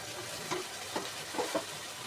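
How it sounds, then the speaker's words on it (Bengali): Prawns and cauliflower frying in a pan with spiced masala, a steady soft sizzle under a few light stirring scrapes, with no talk. "আমি এখন চিংড়ি মাছটা দিয়ে দেবো।"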